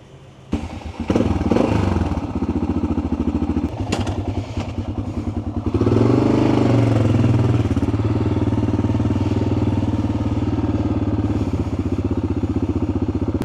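A big single-cylinder thumper motorcycle starts, then idles with a loud, rapid, close-up thumping that settles into a steady, deeper rumble.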